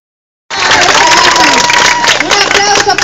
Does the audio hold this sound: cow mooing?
no